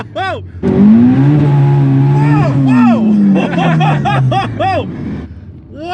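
Turbocharged 800HP Mitsubishi Galant VR4 with an AWD 4G63 engine launching hard on anti-lag, a loud rising engine roar with crackling pops, followed by excited voices shouting near the end.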